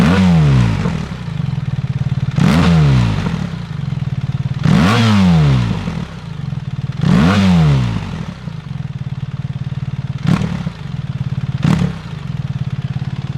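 A BMW R1300 GS motorcycle engine with an aftermarket exhaust revs up sharply several times over a steady idle, with four rising throttle blips followed by two shorter, quicker ones, loud and close.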